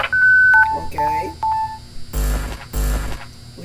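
A phone call ending in the game Five Nights at Candy's: a short run of electronic beeps and tones, then two loud buzzing blasts of a disconnect signal, close and clear.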